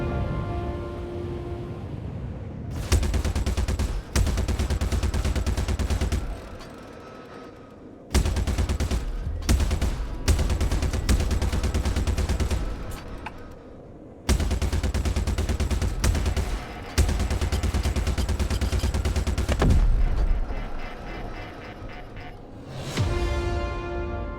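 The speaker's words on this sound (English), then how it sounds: "Explosions!" Star Citizen combat erupts in heavy bursts of gunfire and explosions, loud rapid volleys repeating in long stretches with brief gaps between them.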